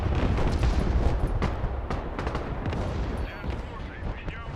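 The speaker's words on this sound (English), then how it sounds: "I'm getting artillery" Artillery fire in the video game Broken Arrow, a continuous barrage of heavy booms and rumbling blasts layered over one another at loud, sustained volume.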